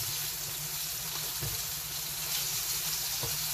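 Whole cremini mushrooms sizzle steadily in a frying pan for a chicken cacciatore, a continuous broadband crackle with a low hum beneath and a few faint clinks, no voices.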